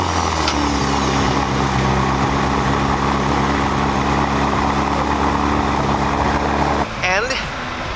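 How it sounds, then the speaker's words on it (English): A Ferrari fitted with an aftermarket Tubi exhaust runs at a steady idle, a loud, low droning engine hum with a constant rhythmic pulse that continues evenly before cutting off abruptly near the end. "the first, the tube exhaust ignition."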